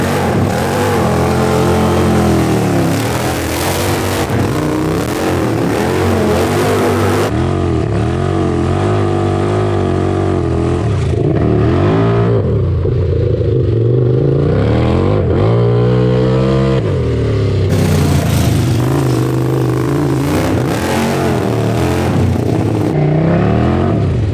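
A modified 4x4 Power Wheels ride-on car fitted with a 1000cc, 105hp engine drives and revs nonstop, loud and close, its pitch rising and falling with throttle blips and repeated hard accelerations.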